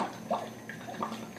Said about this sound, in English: So let's just go ahead and pour it right on in the bag.